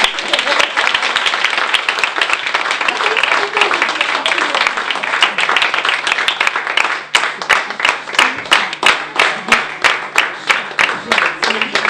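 An audience applauds after a school performance with dense, loud clapping that later thins into slower, rhythmic claps in unison. Voices carry over the clapping.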